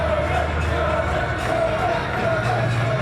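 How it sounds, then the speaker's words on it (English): An ice hockey crowd cheers after a goalie save, a steady, loud, dense roar of many voices filling the arena without pause. "a cheer from the crowd"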